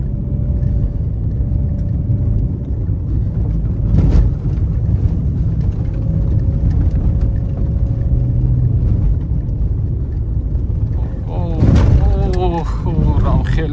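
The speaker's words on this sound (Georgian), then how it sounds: "ხმაურიანი მანქანა ნამდვილად არის გარედან ხმები" Road noise inside a moving Jeep Renegade: a steady low rumble and tire drone fill the cabin, with a thump near the middle and a person talking over it near the end.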